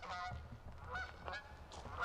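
Several geese honk repeatedly, a nasal chorus of calls overlapping at moderate distance with low background rumble.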